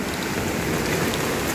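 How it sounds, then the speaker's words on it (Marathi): Heavy monsoon rain in the Konkan region, a dense, loud, continuous wash of rain pouring steadily on surfaces with no voices. "पावसाचं पाणी भरला की हैसर पण पाणी येता."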